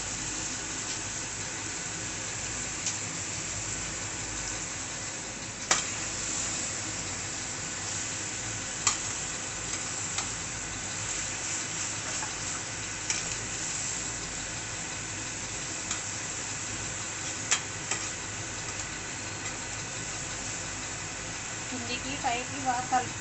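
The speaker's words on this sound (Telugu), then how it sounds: "కిందికి పైకి బాగా కలుపుకోవాలి." Food for a Bonalu festival meal is stirred and mixed in a cooking pot over a continuous sizzling hiss, with occasional clinks and scrapes scattered through the long stretch.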